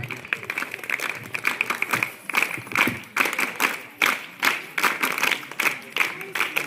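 An NSS camp audience applauds its programme officers at a cultural night, with steady, energetic clapping from the crowd holding for several seconds and swelling in uneven bursts.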